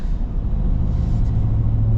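Steady low engine rumble from an 800-horsepower Shelby F-150 super truck while driving, a continuous close drone with no talk.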